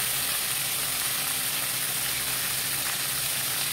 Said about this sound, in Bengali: আলুটাকে ভালো করে নেড়ে ভাজা ভাজা করতে হবে